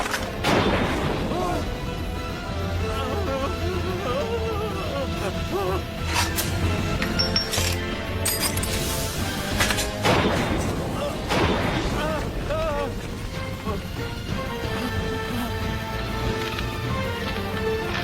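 Rapid gunfire and booming blasts rattle through a loud, busy scene, with shouting voices mixed in over the continuous barrage.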